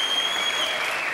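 Studio audience applauding after a card trick on a French TV variety show, a steady dense clapping that fills the whole moment without a break, with no talk over it.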